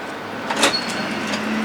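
A door at a courthouse building moving on its hinges, heard as a brief mid-clip scrape and squeak with a short clack over steady background hum; no voices.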